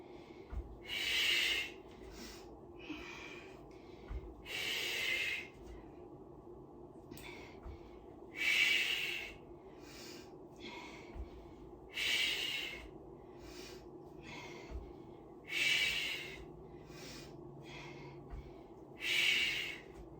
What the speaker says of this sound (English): Exhale, inhale, exhale, inhale